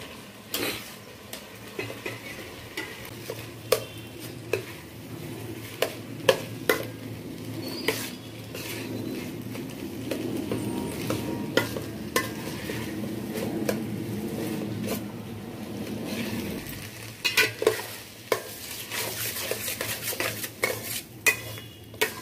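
Rice with tomato sauce being stirred in a hot pan, with repeated clattering spoon scrapes against the metal and a soft sizzle swelling in the middle, close and fairly loud.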